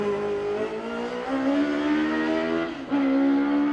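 A Suzuki-powered MacTac race car's engine roars loudly nearby at a historic hillclimb sprint, its pitch climbing and dropping through gear changes as the car goes past, with no talking.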